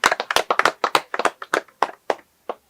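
An audience claps for Rugira at a drama's final episode, a brisk run of close, sharp handclaps that thins out and stops within a few seconds.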